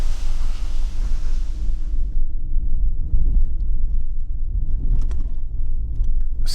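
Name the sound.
strong wind on a mountain road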